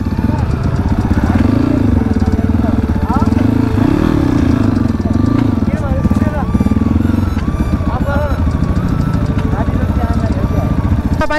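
A motorcycle races on a new dirt track in Chunikhel, its engine droning loudly and steadily with a wavering pitch that rises and falls. Voices talk over it.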